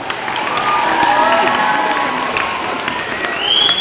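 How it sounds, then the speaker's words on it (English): Audience at a contest cheers and applauds after a round of performances, a dense steady wash of clapping and shouting from a crowd with some voices mixed in. "Give them a round of applause."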